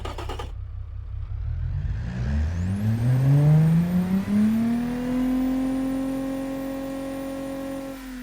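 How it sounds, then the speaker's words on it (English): Car engine in the Automation game, idling and then revving up with a rising whine that settles into a sustained high, loud tone, with no voices over it. "So let's just test how this engine gonna sound."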